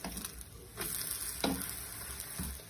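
Besan pudla, a gram flour pancake, sizzles steadily in a hot pan, with a constant frying hiss and a few brief scraping or flipping touches spread through it, close and alone with no talk.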